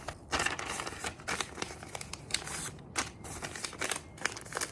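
A sheet of loose leaf paper is handled and folded close by, giving a series of crisp crinkles, rustles and soft creasing snaps with no talking.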